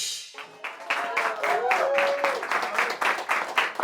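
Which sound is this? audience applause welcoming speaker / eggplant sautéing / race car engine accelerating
audience applause welcoming speaker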